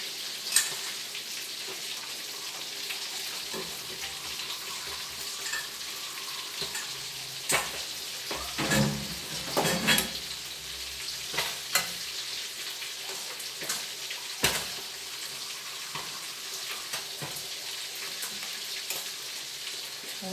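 A pot of cabbage soup boils steadily, with a continuous bubbling hiss broken by sharper pops and gurgles, heard close with no voices.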